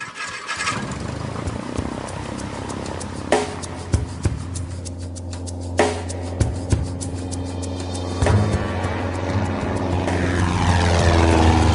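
Propeller airplane flying from irrigated flatlands near Blythe toward low desert mountains, its engine drone loud and steady throughout, with a few sharp knocks and rattles inside the cabin.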